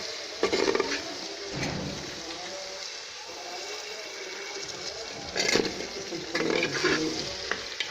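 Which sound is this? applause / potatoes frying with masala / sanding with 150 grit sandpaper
potatoes frying with masala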